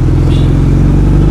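Suzuki Hayabusa motorcycle engine running loud and close, a dense low rumbling roar held steady through a brief burst.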